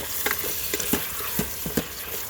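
Ground beef, chorizo and chopped onions are being stirred as they fry, giving a continuous sizzle broken by a quick series of scraping utensil strokes close by.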